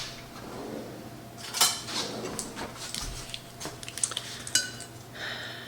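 Rummaging through metal kitchen utensils for a measuring spoon: close, irregular clinks and clatters of cutlery knocking together in bursts over a steady low room hum.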